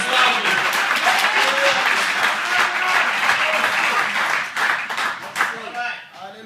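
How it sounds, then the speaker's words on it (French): A church congregation applauds during a sermon, a dense continuous clapping that fills the space for several seconds before thinning out, with voices talking and calling out over it. "Et nous acclamons Jésus de fort."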